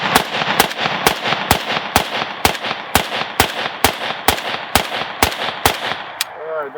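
Kalashnikov USA KR-103 rifle emptying a magazine: about a dozen loud, sharp shots fired in an even, steady rhythm, close by, each with a short echo trailing off.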